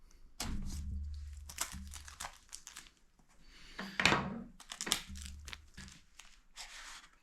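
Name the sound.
cutting open and unboxing a package, breaking the seal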